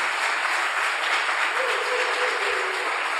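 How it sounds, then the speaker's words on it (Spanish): Dense, sustained applause from a large audience at an annual Hispanic-American church meeting, steady and even across the whole moment, with no voices over it. "nuestro amor a ustedes manifestado en este fuerte aplauso"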